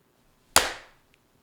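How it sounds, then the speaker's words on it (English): Two people clap their hands at the same moment, merging into one sharp, close clap that rings briefly into silence. "How would we clap at the same time?"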